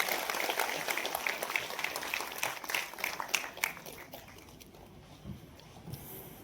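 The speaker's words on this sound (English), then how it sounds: "Please welcome sir with a thunderous applause." Audience applause at a Constitution Day event at the Dr. Ambedkar International Centre, starting full and thinning out over several seconds, fading to sparse claps and quiet room noise.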